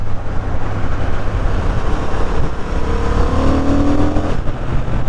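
A 2023 Honda Hornet motorcycle pulls hard in fourth gear, its loud engine drone rising steadily in pitch toward the end amid heavy wind rush, recorded close from the rider's position.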